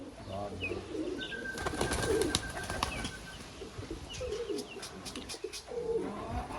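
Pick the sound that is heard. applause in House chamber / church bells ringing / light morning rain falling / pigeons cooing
pigeons cooing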